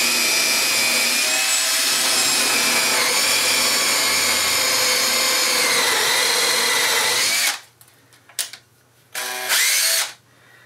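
Power drill spinning a bit inside a lamp part as it bores and scrapes at the walls, a loud continuous high whine for several seconds, then stopping and restarting in short bursts.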